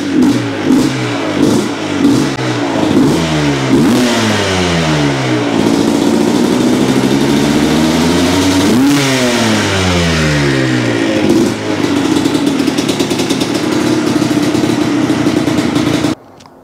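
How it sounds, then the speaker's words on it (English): A 1998 Yamaha Blaster two-stroke quad engine, an abandoned machine just brought back to life, revs loudly and repeatedly, its pitch climbing and falling in quick bursts over a constant raspy idle with no talking. "A surefire way to make friends with your neighbors is starting a two-stroke at night."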